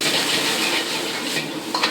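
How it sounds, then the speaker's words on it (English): Loud, steady sizzling of food frying in a hot wok, with scraping stirs and a couple of metal clinks near the end. "The sizzle of a wok,"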